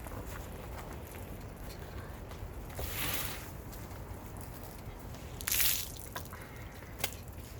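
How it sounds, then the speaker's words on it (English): Dirty soapy water dripping from a rolled length of wet felted wool, scattered soft splashes and drips over a steady watery background hiss, with a louder splash near the end. "A lot of dirty soapy water's coming your way"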